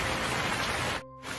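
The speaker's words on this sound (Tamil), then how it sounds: "கொஞ்ச நேரத்துல மழையும் வந்தது." Steady rain pours down as a hiss of falling water in an animated Tamil moral story about birds in the rainy season, loud and continuous, then briefly cutting out near the end before resuming.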